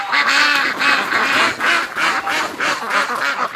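A duck called the Disco Duck, penned with wintering ducks and geese near a swamp and creek, quacks loudly and repeatedly at close range in a rapid, rhythmic series of raspy calls with no talking.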